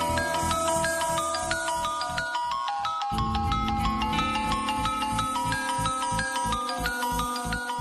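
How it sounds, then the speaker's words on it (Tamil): A mobile phone rings indoors in a household, playing a loud, steady, repeating electronic melody with a pulsing beat that continues for several seconds without voices. "அனு போன் அடிக்குது பாரு, எடுத்து பேசு."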